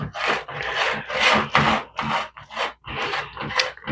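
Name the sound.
spoon scraping sourdough starter down inside a jar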